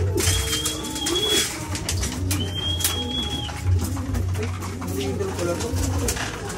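Pigeons cooing in a loft at feeding time, steady overlapping low coos close by, with voices talking throughout and constant background hum.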